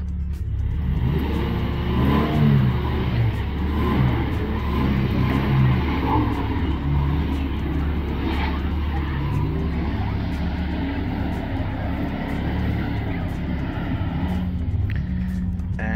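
A four-wheel drive car stuck and bogged down, its engine droning and revving continuously at a steady, strained pitch, loud and close, with no letup for the whole stretch.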